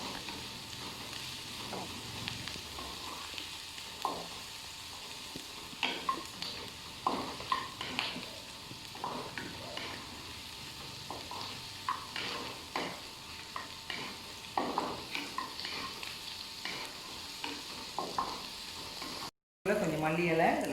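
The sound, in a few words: onions frying in a pan for pepper chicken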